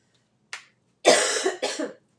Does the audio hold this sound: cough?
yes